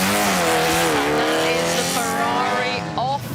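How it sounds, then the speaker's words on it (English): A Ferrari race car on a forest rally stage pulls away from the line with a loud rising engine howl and gear changes, close and strong, briefly over a commentator's voice. "That is the Ferrari off the line then."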